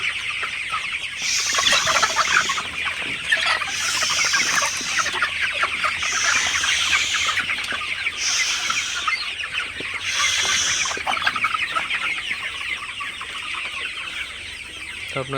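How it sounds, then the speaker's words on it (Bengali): A crowded poultry house full of fifty-day-old Sonali super hybrid chickens fills with constant overlapping clucks and chatter, with a few louder bursts of calls rising above the dense, steady flock noise. "দেখতে পাচ্ছেন আমার ঘরটা আসলে মুরগি দিয়ে ভরে গেছে"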